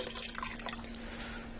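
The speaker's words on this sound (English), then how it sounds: "I have a 32-ounce carton of beef broth. I'm going to add that in there" Beef broth from a 32-ounce carton poured into a stew pot, a steady soft liquid splash and trickle, close and continuous for under two seconds.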